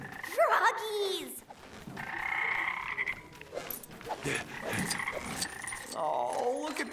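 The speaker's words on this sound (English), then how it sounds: "Froggies!" Cartoonish frog croaks from the Lego Dimensions video game, several bubbly, rising calls in quick succession, loud and close, with game character voices talking between and over them.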